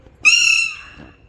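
A pigeon lets out a loud, sharp squawking call up close while pecking and biting at a hand, one sustained cry that fades away.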